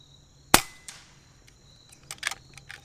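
A .22 caliber FX Dreamline air rifle fires a single sharp shot, with a faint metallic ring and quieter clicks of the action cycling afterward, heard alone without talk.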